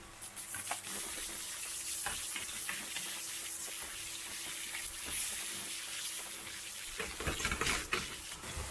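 Onions, garlic and lardons fry in a pan, a soft continuous sizzle and crackle mixed with faint clinks and stirring scrapes, with a few louder clatters near the end.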